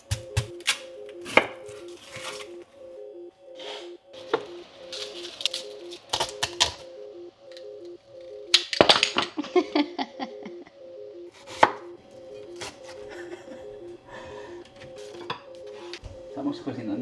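Knife chopping food on a cutting board while cooking, irregular sharp chops, some close and loud and others lighter, with a faint steady hum and occasional clinks of kitchenware underneath.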